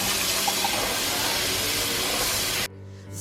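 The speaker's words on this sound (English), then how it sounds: "Washing it with cold water." Cold tap water runs hard and steady while dried black beans are rinsed, a loud continuous splashing rush that cuts off abruptly near the end.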